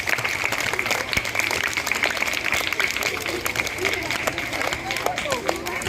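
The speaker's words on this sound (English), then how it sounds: "Give a big round of applause to Advait." Crisp, sharp claps from a room full of people ring out for a participant at an English elocution contest at a coaching centre in Hyderabad. They form an even, continuous patter of moderate loudness.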